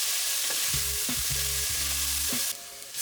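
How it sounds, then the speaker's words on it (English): Onion, garlic slices, chili powder and red pepper flakes sizzle in a pan for a Sicilian seafood soup while a utensil stirs them, with several scraping strokes over a steady frying hiss. "Cook, stirring frequently until the onion softens"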